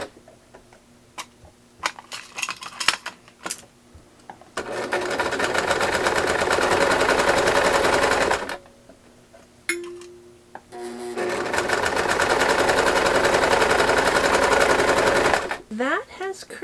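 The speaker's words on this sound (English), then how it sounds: "So now we're going to sew that with a 1/4 inch seam." A sewing machine stitching a quarter-inch seam on a baby quilt runs in two steady, loud, close bursts of several seconds each. Short pauses and light handling sounds come between the runs, with a voice briefly present.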